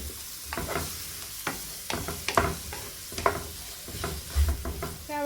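Sliced onions with a pinch of salt sauté in a pan under a soft, steady sizzle, with a spoon scraping and stirring in irregular strokes close by.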